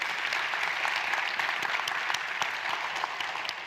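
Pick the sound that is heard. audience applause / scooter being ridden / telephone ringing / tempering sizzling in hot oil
audience applause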